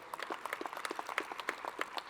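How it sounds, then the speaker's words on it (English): Scattered applause from a small business event audience in Savannah, Georgia, faint and distant, with sparse individual claps rather than a dense wash. "give them a round of applause"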